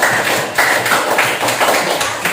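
Pupils in a classroom give a burst of applause for a classmate, loud, dense hand clapping with a few rhythmic swells throughout.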